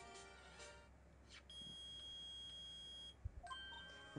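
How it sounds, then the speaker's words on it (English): A steady, shrill electronic metal detector beep in the video game Phoenix Wright: Ace Attorney sounds continuously, then shifts to a different pitch, with faint background hum and no talking. "it's beeping. The metal detector's found something. Sure is loud enough about it."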